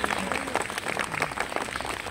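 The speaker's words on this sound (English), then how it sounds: "would you mind giving him his applause now?" Audience applause at an arts festival street show: a steady, dense wash of many hands clapping throughout, close and lively with no break.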